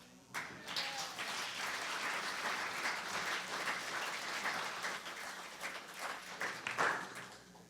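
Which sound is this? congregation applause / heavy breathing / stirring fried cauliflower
congregation applause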